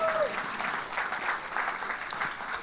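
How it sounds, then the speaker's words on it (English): A comedy club audience at the Laugh Factory applauds, with continuous dense clapping filling the room for the whole stretch, fairly loud and steady. "You should be applauding that."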